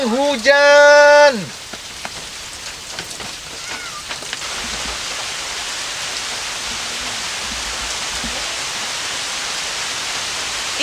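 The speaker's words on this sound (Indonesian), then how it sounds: "hujan." Steady rain hisses on a surface outdoors for the whole stretch, starting just after a brief loud tonal burst and continuing as a broad, even wash. A faint voice shows up only here and there.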